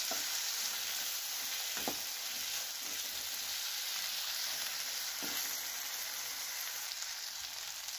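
Tomatoes, green chili and ginger fry in a kadhai while being stirred, a steady close sizzle throughout with a few soft scraping strokes of the spoon, no voices.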